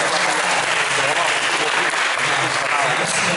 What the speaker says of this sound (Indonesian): Tepuk tangan mana dong?